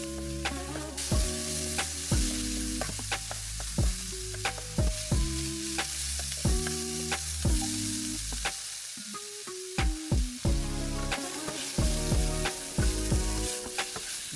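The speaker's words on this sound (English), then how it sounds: "we're gonna mix everything right in" Seasoned vegetables and onions sizzle steadily in a hot pan with salt and pepper, broken by repeated scraping and clattering strokes of a utensil stirring them, close and continuous throughout with no talking.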